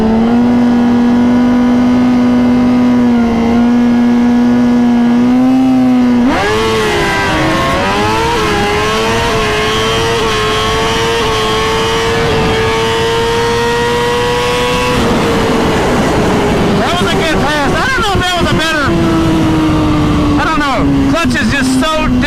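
A 2020 Suzuki GSX-R 1000 motorcycle holds a loud high-revving idle, then launches hard, its engine note climbing steadily through long pulls and a gear change, very close and loud, with a brief voice near the end.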